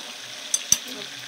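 Large pieces of meat or vegetables sauté in a spice masala in a pan, giving a steady close sizzle with two brief sharp clinks from stirring. No voices.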